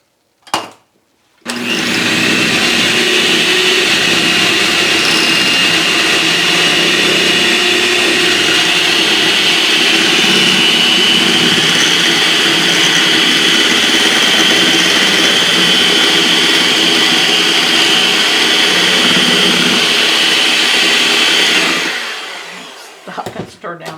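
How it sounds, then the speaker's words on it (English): An electric hand mixer whirs steadily and loudly for about twenty seconds, beating pumpkin roll cake batter in a bowl, then cuts off near the end. "you're just going to give it a quick mix with your mixer"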